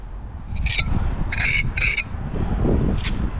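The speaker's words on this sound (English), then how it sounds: "Scrape off as we go." A steel trowel scrapes and rasps over wet mortar while scaffold holes in brickwork are filled, with several short gritty strokes close by over a steady background.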